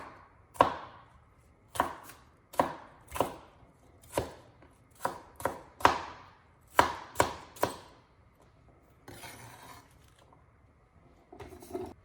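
A knife chops onion on a cutting board for a spicy wild hog lemongrass dish, about a dozen crisp, close strikes in uneven bursts, followed by a short rustle of scraping at the end.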